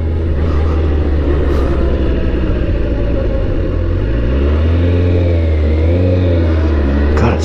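A Kawasaki ZX14R motorcycle's big engine revs and pulls steadily, a loud continuous rumble rising and falling in pitch as it accelerates, heard close and without voices.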